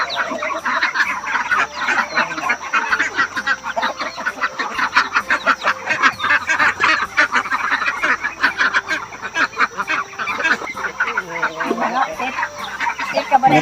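Ducks and chickens on a village farm in Laos make a dense, continuous chorus of honks, quacks and clucks, loud and close throughout, with no talk over it.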